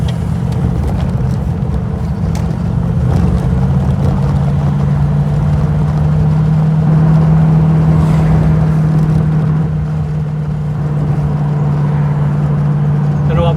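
V8 car engine cruising along roads into the Derbyshire Peak District, a loud, steady low drone with a sustained rumbling tone that swells slightly midway, heard from inside the car.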